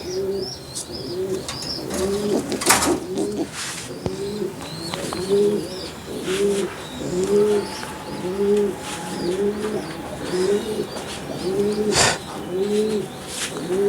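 A racing pigeon hen coos in a steady run of soft repeated low calls, close by, while being held in the hand, with faint chirps and loft sounds behind.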